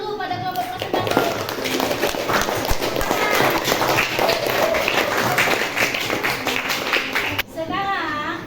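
Classroom applause for a presenting group of students, steady busy clapping throughout with voices mixed in, ending abruptly.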